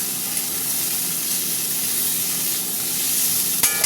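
Bitter gourd and potato frying together in oil, giving a steady hissing sizzle with a brief sharp clatter near the end.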